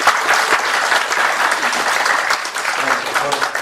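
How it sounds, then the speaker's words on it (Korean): A church congregation applauds its children and students standing up during a Korean service, steady dense clapping filling the room for several seconds at full volume. "박수 한번 하겠습니다."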